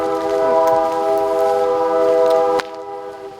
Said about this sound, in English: Is that a train? it is a train.